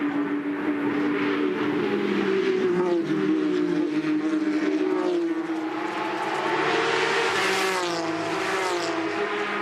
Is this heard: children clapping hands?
no